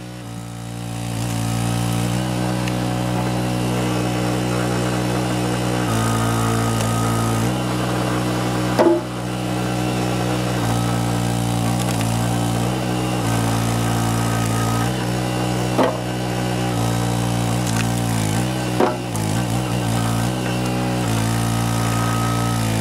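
A Canadian-made two-way engine-driven wood splitter drones loud and steady for the whole stretch while splitting small firewood logs, with a few brief knocks and cracks standing out above the engine hum.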